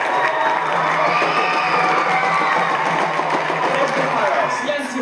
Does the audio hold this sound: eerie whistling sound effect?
no